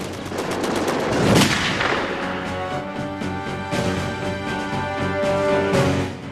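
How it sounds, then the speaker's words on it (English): An M2 heavy machine gun fires sustained, rapid bursts, loud and close, with a dense pounding rhythm and ringing echoes, and no talking. "the M2 heavy machine gun has continued to make an impact"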